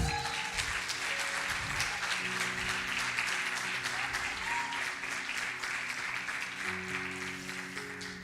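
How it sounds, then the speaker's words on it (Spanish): Sustained applause from a church congregation honoring the Lord, a steady dense wash of many hands clapping, moderately loud and continuous throughout, with a faint voice briefly underneath. "De un aplauso al Señor"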